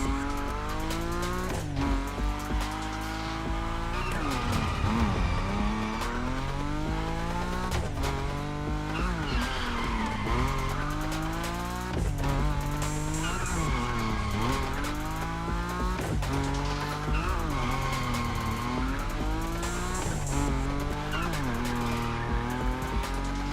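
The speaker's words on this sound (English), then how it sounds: "Your Nismo is powerful enough to slide along on its own when you're at high speed" Tire squeal and engine roar from a Nissan Nismo sliding sideways at high speed in the racing game The Crew Motorfest, loud and continuous with shifting pitch over music-like layered tones, no voice.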